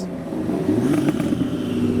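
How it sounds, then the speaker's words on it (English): Modified cars rumble and rev their engines as they queue into a car show, a steady close engine drone rising briefly in pitch, with no talk over it. "A few revs as everyone comes in the show."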